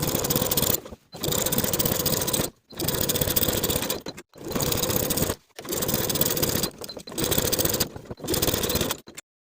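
Top stitching with a quarter-inch seam allowance along the back seam of an unlined jacket, the sewing machine runs in about seven loud, even bursts separated by brief silent pauses, close and steady, with no voices.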